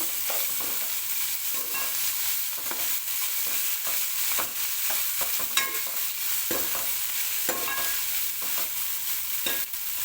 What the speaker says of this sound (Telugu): అల్లం వెల్లిపాయ పేస్ట్ వేసి కలిపి